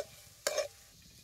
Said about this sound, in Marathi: आणि सौदा बी जरा तेलात असं चांगला भाजून घ्यायचं